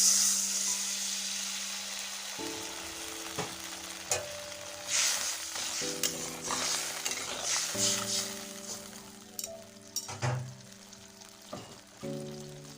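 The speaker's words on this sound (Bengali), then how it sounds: "এখানে বেগুনটাও ভাজা ভাজা হয়ে গেছে, এখন আমি গরম জলটা দিয়ে দেবো।" Fried eggplant sizzling in a pan for a fish curry as hot water is added, the frying hiss bursting and settling, with a tonal electronic hum and occasional clinks over it.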